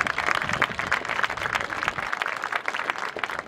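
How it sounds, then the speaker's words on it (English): Steady applause from a crowd after a school band performance, dense overlapping clapping throughout, fairly loud and continuous, thinning slightly toward the end. "So we want to give them a big round of applause"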